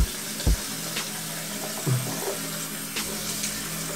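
Running water at a sink for dampening hair, a steady close hiss and splash of tap flow with a few louder knocks and thumps as hands or objects meet the basin.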